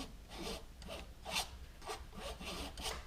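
Palette knife laying a ridge of oil paint onto canvas for a landscape: soft rhythmic scraping strokes, about six of them in a steady back-and-forth, faint and close with no speech.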